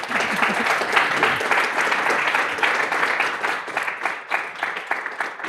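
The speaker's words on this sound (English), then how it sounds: "Please give a warm round of applause to our panelists." Audience applause for panelists at a conservative technology policy event, a steady sustained wash of many hands clapping that carries evenly through and thins slightly toward the end.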